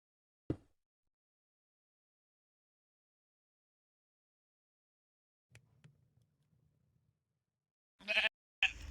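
Minecraft sheep give a short bleat midway, faint and brief, amid sparse clicks in near silence, with a couple of sharp bursts at the end.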